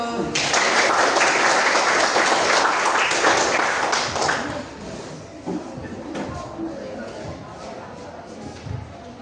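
Classroom applause from a group of students, a dense burst of clapping lasting about four seconds that then thins into scattered shuffling and light taps with murmured voices.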